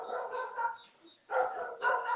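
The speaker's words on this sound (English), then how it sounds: "these dogs are going off." Several dogs bark outdoors at night on a goat farm, coming in two loud bursts of repeated barks with a brief quieter gap between them.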